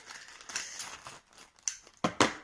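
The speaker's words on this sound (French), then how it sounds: "On découpe." Scissors snip through plastic packaging around a clothing order, with soft crinkling of the wrap between cuts and a few louder, crisp snips near the end, close and fairly quiet.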